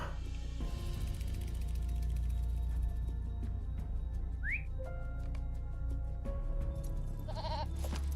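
A goat bleats in a video game, a short rising call over a constant low drone and game ambience, with whistle-like tones and soft chimes around it.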